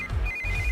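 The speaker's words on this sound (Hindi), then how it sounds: "इस वक्त दीदी का फोन" A telephone rings with a bright, high electronic tone that pulses in short repeated bursts, clear and near.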